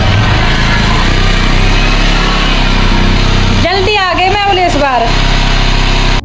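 A long-parked motorbike at a mountain house idles with a steady, loud, buzzing engine note that runs throughout, while someone talks over it briefly near the end.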